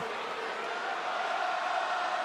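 A live WWE Raw arena crowd gives a split reaction, a loud continuous roar of mingled cheers and jeers that holds steady for a couple of seconds.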